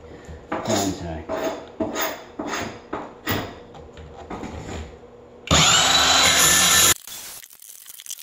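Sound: power saw cutting strips of flooring

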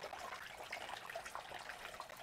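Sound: running water in catfish hatchery tank

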